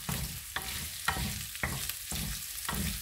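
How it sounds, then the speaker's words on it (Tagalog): Garlic sautéing in a pan for ginataang pork, a continuous close sizzle broken by regular scraping stir strokes about every half second, with no talk. "Diyan ko naigisa yung bawang ko."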